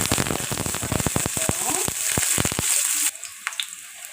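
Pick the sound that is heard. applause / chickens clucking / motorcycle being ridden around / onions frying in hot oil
onions frying in hot oil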